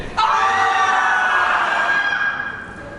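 Church congregation shouting frantically together in one loud sustained collective roar of voices that rises abruptly and slowly fades toward the end.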